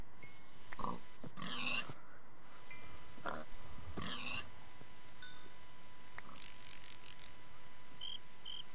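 Several short pig grunts and oinks in separate bursts in a Minecraft-style video game, fairly close, over a steady low electronic background hum.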